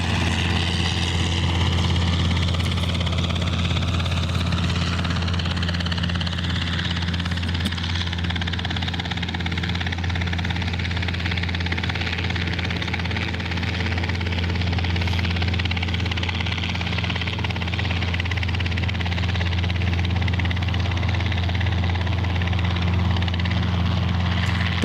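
A Robinson R22 training helicopter at Boeing Field gives off a continuous, steady rotor-and-engine drone at moderate distance, holding even for the whole stretch with no voices.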